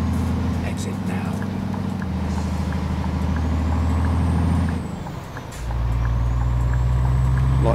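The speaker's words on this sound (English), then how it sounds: "I like the sound of that engine, it's quite nice" Heavy truck engine in Euro Truck Simulator 2, a loud steady low drone with a brief dip as the revs drop and rise again, with someone talking over it.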